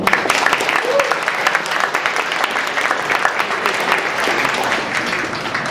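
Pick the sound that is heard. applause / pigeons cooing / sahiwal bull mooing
applause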